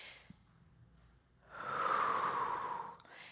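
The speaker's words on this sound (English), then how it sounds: "we're breathing shallow." Shallow, fast breathing demonstrated during a breathwork session: a faint breath at first, then one long, close, airy breath sound lasting over a second, with no talking.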